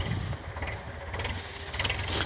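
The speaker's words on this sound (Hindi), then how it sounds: "अभी ये ट्रैक्टर आ रहा है।" Tractor engine working a field being ploughed to prepare for sugarcane, a steady low diesel rumble with a rough mid-range drone, fairly close and continuous with no talking.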